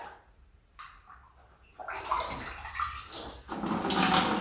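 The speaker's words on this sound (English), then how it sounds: "So then you'll flush the toilet to get the water out of the tank." A toilet is flushed to drain its tank during a leak repair, rising from quiet trickling into a loud rushing gush of water that swells and surges toward the end, close by.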